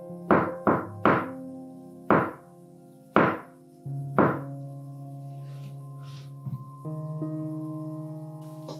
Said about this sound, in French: Tapez dans un mur, par exemple.